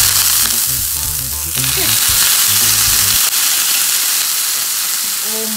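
Egg spitting and sizzling loudly in hot oil in a pan, a steady close frying crackle with louder bursts early on that later settles into a dense hiss.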